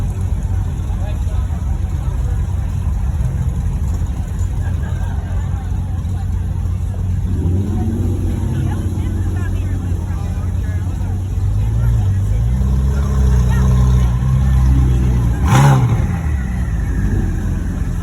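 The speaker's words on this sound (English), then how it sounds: "So now we're right in front of the exit where some of the exotics are gonna be out." Exotic sports cars pulling out of a Cars and Coffee meet in South Orange County, engines rumbling steadily close by with a louder rev building near the end, over a murmur of crowd chatter.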